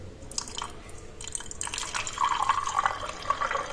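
Water poured into a glass holding almonds, a close trickling and filling sound that grows steadier toward the end.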